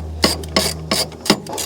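A stubby ratchet with a 10mm deep socket snugs down bolts on a Honda Accord engine during a VTEC solenoid gasket repair, giving four short, close bursts of metallic clicking under a low steady hum.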